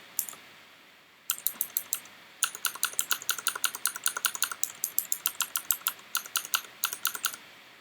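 Computer keyboard keys are pressed in quick rapid bursts while playing the roguelike game Dungeon Crawl Stone Soup, a dense run of crisp, close clicks with brief pauses between clusters.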